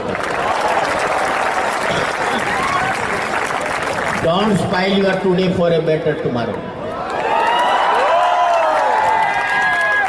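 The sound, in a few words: audience applause and clapping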